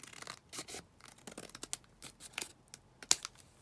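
Paper cut down with scissors or a trimmer for a handmade Christmas accordion folio, heard as a string of close, dry snips and crisp rustles in irregular bursts, with one sharp click near the end.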